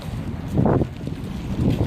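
Steady wind blowing across an open outdoor spot, a constant low roar buffeting the microphone with slight gusts swelling and easing, no voices.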